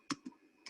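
Three sharp, close keystrokes clack on a computer keyboard, two in quick succession and a third after a pause, with quiet gaps between them.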